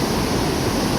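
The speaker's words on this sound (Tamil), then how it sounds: "தண்ணி திறந்து விட்டுருக்காங்க." Water rushes through the open gates of the Vendipalayam river barrage near Erode. It makes a loud, close, steady roar of churning water with no voices.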